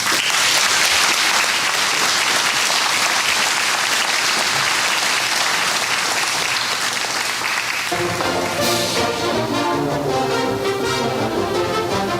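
A crowd at a Hall of Fame induction ceremony gives its inductees a sustained, loud round of applause for about eight seconds before music takes over beneath the last of the clapping.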